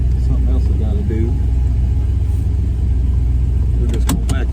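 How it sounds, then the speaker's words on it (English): 1970 Pontiac GTO engine idling in a driveway while backing up, with a loud, deep steady rumble and a brief rev near the end, and someone talking over it early on. "We're just gonna back this thing up here in the driveway for now."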